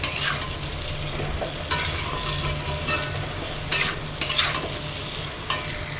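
Spices with salt, turmeric, red chilli and cumin powder sautéing in a home kitchen pan, a steady frying sizzle broken by repeated scraping stirs of a spoon, close and fairly loud.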